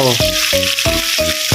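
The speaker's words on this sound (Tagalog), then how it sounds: "Kailangan po ito ay iprito lang muna natin itong carrot" Carrots fry in a hot pan with a bright, steady sizzle, interrupted by a few regular scraping stirs, close and loud.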